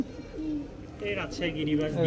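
Soft pigeon cooing at a pigeon market with Indian Bombay and Rajshahi Giribaz pigeons for sale, low rolling calls repeated over a murmur of background voices and general noise.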